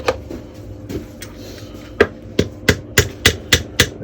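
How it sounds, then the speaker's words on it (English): A hammer driving a punch to knock a gearbox circlip round: a few soft taps, then about eight sharp, evenly spaced metallic knocks at close range, each ringing briefly. "take your hammer and a punch and just knock that clip round until those 2 holes are at the bottom here"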